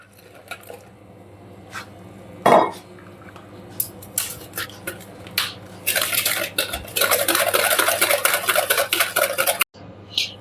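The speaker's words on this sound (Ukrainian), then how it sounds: "Вливаємо молоко, яке тільки що закипіло, і перемішуємо до однорідності" A whisk clinks and scrapes in a bowl as freshly boiled milk is stirred into a chocolate dessert mixture, starting with scattered taps and building into a rapid, continuous metallic whisking.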